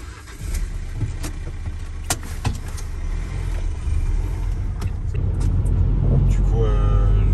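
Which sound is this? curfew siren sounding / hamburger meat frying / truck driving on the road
truck driving on the road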